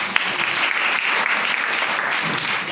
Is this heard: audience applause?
yes